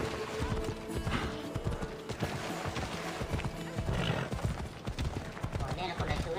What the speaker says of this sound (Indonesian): Oh, ini ada kuda juga nih.